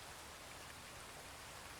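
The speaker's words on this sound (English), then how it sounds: "Margaret reads, and the rain falls, and the shop grows quieter still." Steady rain falls in a dense, even hiss with no breaks, soft and constant like a downpour heard from indoors at night.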